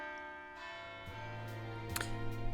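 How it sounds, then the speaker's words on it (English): Dinner bells ring in the video game Death Mark 2, faint chimes over a steady sustained musical drone, with a few sharper strikes toward the end. "Those are the dinner bells you're hearing."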